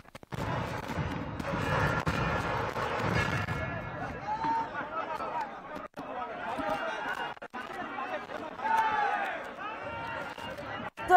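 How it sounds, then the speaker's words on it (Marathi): A large crowd at Mumbai airport loudly chanting and shouting slogans to welcome the chief minister, a dense roar of voices rising and falling in bursts, with a reporter talking over it. "जोरात घोषणा दिल्या जात आहेत।"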